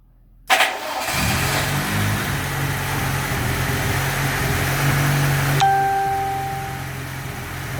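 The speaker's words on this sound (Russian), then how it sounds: "покажем, что двигатель проходит обкатку." VAZ 2106 car engine, freshly rebuilt and being run in, cranks briefly, catches and settles into a steady, fairly loud idle that continues close by, with a slight shift in tone partway through.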